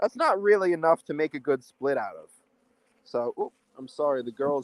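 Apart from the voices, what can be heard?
No everyday noises stand out.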